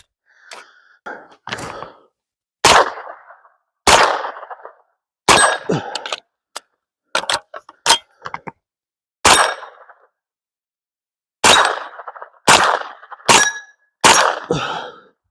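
Sharp, loud gunshots from a short-barreled rifle ring out one at a time at irregular intervals, each a hard crack with a short tail, separated by silence.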